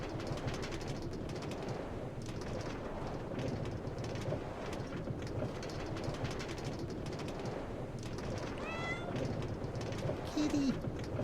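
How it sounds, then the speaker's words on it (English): A cat meows a few times close by, standing out over a constant bed of noise that sounds like a train or game ambience. "Kitty."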